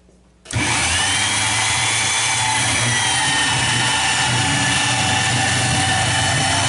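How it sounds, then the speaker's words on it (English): Grinder squaring up the cut end of a steel pipe for a hot rod frame, starting abruptly after a brief quiet moment and then running as a loud, steady, close high-pitched whine. "we'll just square it up with the grinder"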